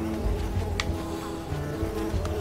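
Mosquitoes buzzing in the puzzle-platformer game Unravel, a thin insect whine drifting in and out over a low ambient game soundscape with a couple of brief sharper tones.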